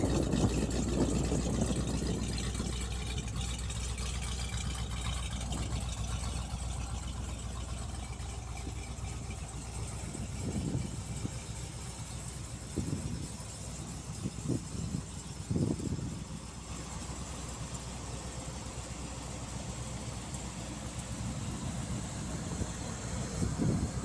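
A 1968 Corvette with a 350hp 327 V8 and four-speed settles into a quiet, steady idle, a low continuous rumble heard from some distance.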